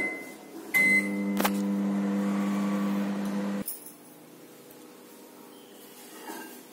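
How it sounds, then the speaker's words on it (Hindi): A microwave oven hums steadily for a few seconds while heating chocolate with condensed milk, starting after a door clunk and ending abruptly, then quiet room tone. "तो चलिए इसको मैं डाल देती हूँ माइक्रोवेव में 1 मिनट के लिए।"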